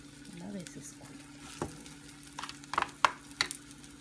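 Spring roll paste hits a hot pan and fries with a soft sizzle, punctuated by several sharp scraping stir strokes near the end, while a voice talks quietly underneath.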